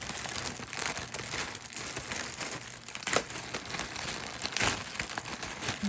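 A taped plastic bag holding a lot of vintage 1980s Jem dolls and accessories is pulled open, with close, irregular crinkling and crackling plastic in sharp bursts and no voices.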